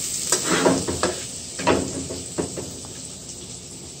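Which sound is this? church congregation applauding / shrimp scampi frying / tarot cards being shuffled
shrimp scampi frying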